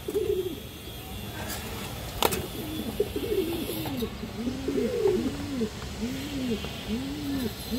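Muslodom pigeons coo in repeated soft, rolling calls, several birds overlapping close by, with a couple of sharp knocks early on.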